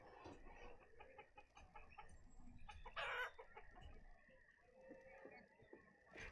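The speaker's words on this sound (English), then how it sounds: "And we're going to start to see the chickens appear over here." Chickens cluck and a rooster crows in the farming city-builder game Banished, a steady patch of fowl calls with a louder burst near the middle, no talking over it.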